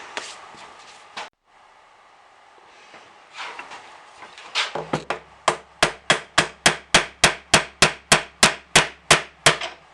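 Steady metal hammer blows on a part of a 1A616 lathe cross slide, around fifteen loud, evenly spaced strikes after a few seconds of quieter handling and shuffling, with no talk.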